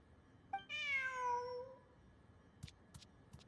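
A cat in the video game Genshin Impact lets out one long, drawn-out meow that falls in pitch and is heard clearly on its own. A few faint, short clicks follow it.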